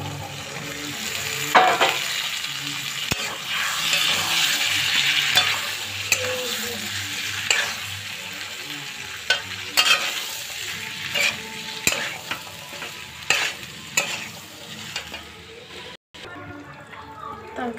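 Potatoes and small chickpeas frying in a cooked spice masala in a pan, a steady sizzle with repeated scraping stir strokes close by, and speech at times.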